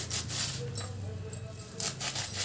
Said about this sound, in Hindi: अब चलिए हम लोग भाजी को कट कर लेते हैं।